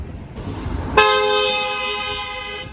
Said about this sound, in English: a lot of angry, pissed off people honking horns